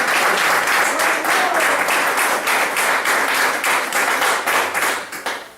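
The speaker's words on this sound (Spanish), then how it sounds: "Denle un aplauso al Señor otra vez" A congregation at a Spanish-language church service claps together in a steady rhythmic beat, loud and full, fading slightly at the end.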